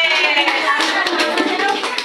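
Children clap in a classroom, a busy patter of many hand claps mixed with young voices and room chatter.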